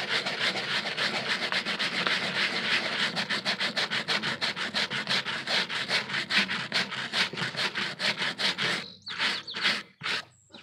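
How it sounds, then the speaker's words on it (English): A wire brush scrubs a dried weasel hide in fast, steady rasping strokes, close and continuous, then slows into a few separate scrapes at the end. "we're going to take this wire brush and we're going to take off excess stuff"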